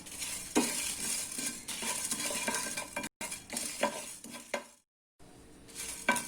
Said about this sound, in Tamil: சோம்பு, சீரகம், மிளகு இது வந்து வெறும் கடாயில் வறுத்துக்கலாம்